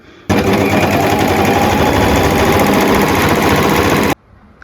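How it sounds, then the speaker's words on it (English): A sewing machine runs a rolled hem along a fabric frill, a loud, fast, continuous mechanical rattle lasting about four seconds that starts and stops abruptly, close up, with no talking. "So just making a rolled hem right now"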